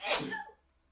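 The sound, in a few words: sneeze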